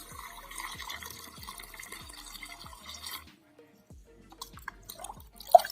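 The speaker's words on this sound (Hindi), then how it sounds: "अब इसके बाद हम इसमें पानी डालने वाले हैं और इसको मिक्स करके अच्छे से एक पेस्ट बनाने वाले हैं।" Water poured into soil to make a paste for charcoal: a series of quiet, regular splashing drips, then a pause and a few scattered wet sounds, close by.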